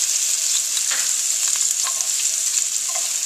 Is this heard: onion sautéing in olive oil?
yes